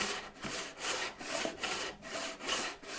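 A hand saw with rip-filed teeth cuts a groove in wood with steady back-and-forth strokes, each pass a rasping burst with short pauses at the turns, close and alone.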